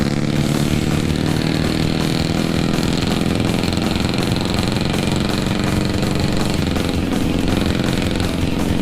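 A Motorstar Xplorer 200X motorcycle engine runs steadily and loudly close by, a constant dense mechanical drone with no pauses and no voices over it.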